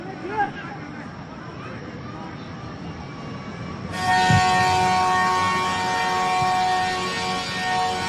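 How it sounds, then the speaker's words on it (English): A loud, sustained full-time siren at a rugby match in Fukuoka, Japan versus Uruguay, cuts in halfway through and holds steady to the end, over crowd noise and commentary. "Full-time siren here in Fukuoka"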